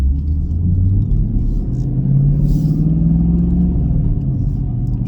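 A 2024 Chevrolet Camaro LT1 V8 idling while it warms up, a deep, steady, close rumble with a slight wavering lift in pitch and no voices.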